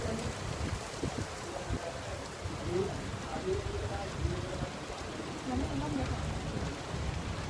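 Steady rain hisses over everything at a shrimp fishing spot, with someone speaking faintly beneath the constant wash of noise.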